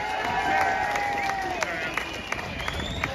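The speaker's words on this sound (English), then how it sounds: "I think they deserve a massive round of applause" An audience at an anti-abuse awareness event breaks into applause, a broad wash of clapping and some cheering with voices and babble running through it, steady and fairly loud.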